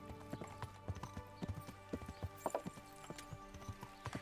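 Steady clip-clop of horse hooves on a hard surface in a video game, a brisk irregular trot heard close, with a low background hum.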